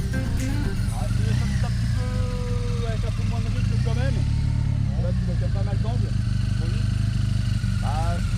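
A motorcycle engine runs steadily through a riding training session, a constant low rumble close by, with people talking over it.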